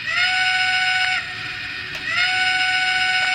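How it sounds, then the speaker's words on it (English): A Polar Express Elf Work Train toy locomotive sounds its electronic whistle in two long, steady blasts separated by a short dip, thin and modest in volume, with no voices. "This is the whistle."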